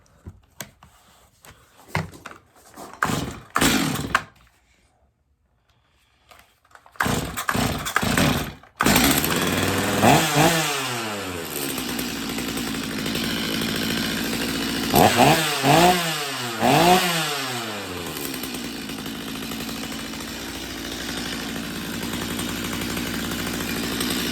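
A Stihl MS250 chainsaw, warm and prone to restart trouble, gets a few sharp pull-cord tugs, then roars to life and runs loud and close, with several rising revs over a steady idle.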